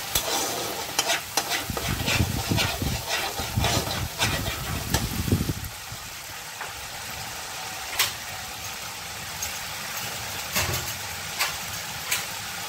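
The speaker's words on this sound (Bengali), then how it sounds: "এবার এটাকেও আমি খুব ভালোভাবে কষিয়ে নেব" Catfish curry with bitter gourd being stirred and sautéed in a pan, giving scraping spatula strokes over a steady sizzle, busier in the first half and then settling into a quieter frying hiss with occasional clinks.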